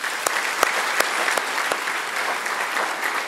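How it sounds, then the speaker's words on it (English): An audience at an accountants' annual general meeting claps steadily, a dense patter of many hands with a few sharper individual claps standing out, sustained throughout. "Please let us clap for him."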